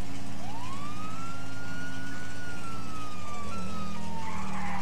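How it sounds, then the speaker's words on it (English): A steady wailing police siren in GTA 5 sweeps up and holds over a low engine drone, loud and continuous, shifting pitch near the end. "Oh wow, we siren now."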